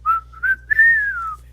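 A person whistles a short, jaunty tune alone, a few quick rising notes followed by one long sustained sliding note, close and clear over a faint low hum.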